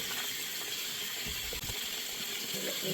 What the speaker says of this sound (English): So get this cloth nice and warm and wet.